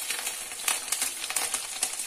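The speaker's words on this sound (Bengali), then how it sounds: "তেলটা গরম হয়ে গেছে, এবার আমি এই দেখুন বড়াগুলোকে ছেড়ে দিচ্ছি।" Fish roe fritters fry in hot oil with a soft, steady sizzle and crackle dotted with small pops, close but fairly quiet and without talking.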